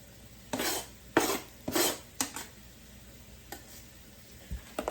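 Chopped canned food drops into a frying pan for homemade chili with several soft scraping, clattering hits of a utensil against the pan, spaced irregularly over a quiet sizzle.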